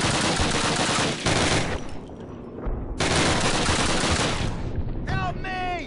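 Rapid automatic gunfire from the video game Call of Duty crackles in loud sustained bursts with short pauses between them, and a few sharp ricochet-like chirps come near the end.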